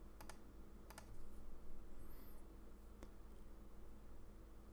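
Typing a webinar title on a computer keyboard, with short bursts of quiet key clicks and gaps between them, soft and close.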